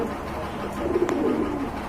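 White Bombay pigeons cooing close by, a low soft rolling coo repeated over a faint background hum.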